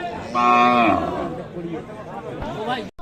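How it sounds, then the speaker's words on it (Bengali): At a busy cattle market, a young bull calf gives a loud, drawn-out moo up close, followed by crowd chatter and people talking nearby. "এটি কিন্তু ষাঁড় বাচ্চা দর্শক"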